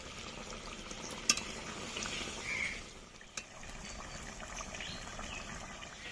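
Chicken pieces being stir-fried with spices for chicken biryani, cooked with a little water in a pan: a quiet, steady sizzle with a couple of sharp clinks from a spoon stirring against the pan.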